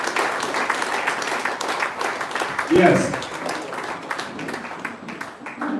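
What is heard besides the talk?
audience applause for the president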